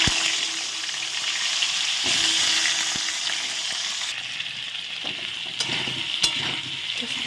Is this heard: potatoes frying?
yes